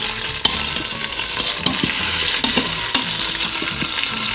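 Lamb shanks searing on the saute setting of an Instant Pot give a steady loud sizzle, broken by sharp clacks and scrapes of a utensil turning the meat, with no talking.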